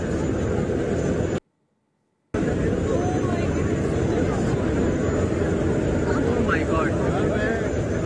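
A Tejas fighter jet flies at the Dubai air show, its steady broadband engine roar filling the air, briefly cut out by a short gap of silence before resuming just as loud.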